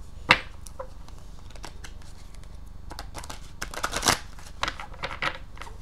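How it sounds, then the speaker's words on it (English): Quick bursts of crisp shuffling of angel cards, riffled several times close to the microphone against a low steady background hum. "Shuffle these up really good."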